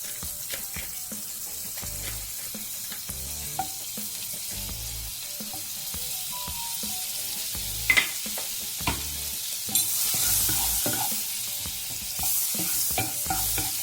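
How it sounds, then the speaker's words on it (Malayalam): Butter heating on a non-stick tawa while rajma masala is being made, a steady soft sizzle with scattered stirring clicks and a few sharper knocks on the pan, close and fairly quiet. "ഞാനൊരു നോൺ സ്റ്റിക്കിൻ്റെ തവ എടുത്തിരിക്കുകയാണ്. അതിലേക്ക് കുറച്ച് ബട്ടർ ഇടാം."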